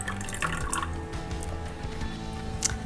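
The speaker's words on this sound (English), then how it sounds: "And then we're going to add in a tablespoon of lemon juice." A tablespoon of lemon juice goes into heavy cream warming in a small saucepan, giving a brief close trickle and drip of liquid with faint clinks and no speech.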